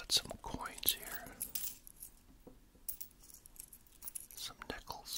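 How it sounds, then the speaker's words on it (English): Nickel coins handled on a table cover, faint metallic clinks and light clicks in scattered bursts, close and quiet, with soft whispering now and then. "I got some coins here,"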